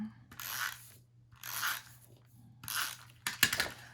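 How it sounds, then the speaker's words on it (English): Adhesive applicator rolled across paper while assembling a cookbook page, three or four short raspy ratcheting strokes at a steady pace, close and fairly quiet. "So let's get some adhesive on that."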